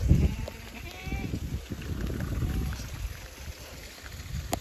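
Goats stand out in heavy rain, their bleats faint and intermittent against a steady wash of rainfall and low rumbling noise, fairly distant and partly masked.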